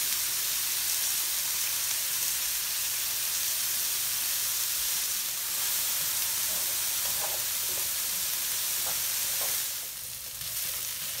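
Onions with a pinch of salt sizzle and fry steadily in a pan, a continuous hissing crackle with a few brief stirring clinks near the end.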